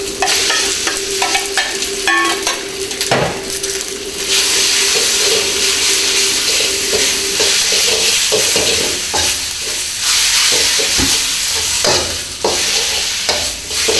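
Beef stir-frying in a hot pan for a black pepper stir fry, a loud steady sizzle broken by repeated scraping and clanking of a utensil against the pan, close and continuous with no talking.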